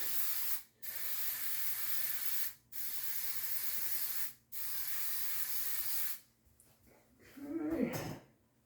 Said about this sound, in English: now I'm going to give everything a little spray mist for over top